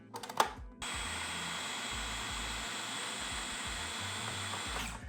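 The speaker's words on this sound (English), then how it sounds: "this Cuisinart food processor is an absolute beast. So we're gonna pop the lid on and blend this until we get a smooth hazelnut butter" A Cuisinart food processor blends roasted hazelnuts into butter, starting after a brief clatter and then running as a loud, steady motor whir that holds without pause, close up and with no voices.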